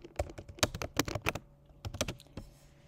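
Rapid bursts of computer keyboard typing as a short test message is entered, with keystrokes clustered in quick runs and brief pauses between, close and clear with no talking.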